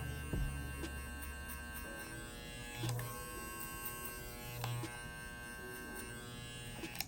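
Electric hair clippers hum steadily while cutting a drop fade, with brief brushing and handling noises breaking in now and then, close and fairly quiet.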